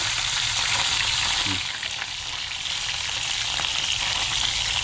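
Galunggong fish frying in hot oil gives a steady, loud sizzle with a continuous bright crackle that dips slightly midway, close up and with no talking.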